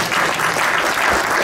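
Dense, loud applause from a crowded audience at an international expo, sustained evenly throughout with no pauses.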